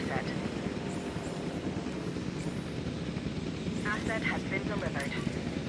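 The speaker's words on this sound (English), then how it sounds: "Let's get these airlifted into here. We got helicopters absolutely everywhere." Helicopters airlifting dinosaurs in the video game Jurassic World Evolution 2, a continuous rotor chop and engine drone holding steady throughout, with faint chirping calls and a brief voice over the top.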